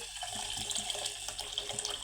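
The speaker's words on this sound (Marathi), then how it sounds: "आता याच्यामध्ये गरम पाणी टाकून घेऊया" Hot water streams steadily into a curry for about two seconds, a continuous splashing pour at close range with no voices.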